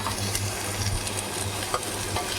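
Sliced onions and chopped tomatoes frying in a pan, with a steady close sizzle and crackle and small pops as the mixture is stirred.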